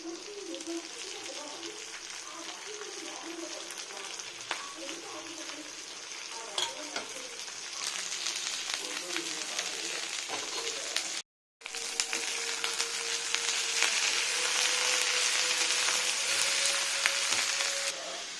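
Washed drumstick leaves go into a pan of moong dal and fry with a steady, even sizzle that swells slightly louder after a brief cut, while someone talks over it.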